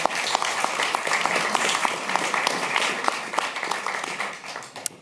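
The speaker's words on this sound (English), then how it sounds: "Give them a warm applause." Steady applause from an audience at a Dutch National Opera talk event, dense clapping filling the whole stretch without a break, fairly loud and close.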